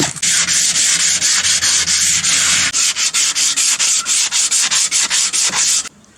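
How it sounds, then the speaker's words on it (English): Hand sanding of a Toyota Hilux body being stripped back to bare metal, a loud, close, rhythmic rasping in quick repeated back-and-forth strokes, steady and unbroken until it stops abruptly at the end. "We've sanded her back, stripped it all back down to bare metal."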